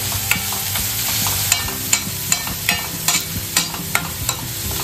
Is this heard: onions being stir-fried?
yes